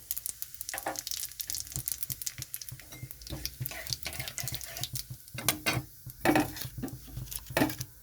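Radhuni seeds go into hot oil in a pan with an irregular crackle and patter, mixed with utensil clinks and scrapes at a moderate, close level.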